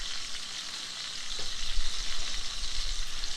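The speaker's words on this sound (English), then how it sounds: "You just want to get a good sear on it." A ribeye steak searing fat-cap-down in a hot pan, giving a continuous hissing sizzle that grows a little louder and busier partway through, with low rumbling handling noise and no voices.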